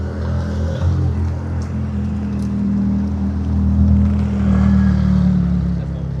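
Ferrari 430 Scuderia sports car arriving at a car-and-coffee gathering in Saint-Cloud, a steady loud low engine drone that swells toward the end, with crowd noise and faint talk beneath.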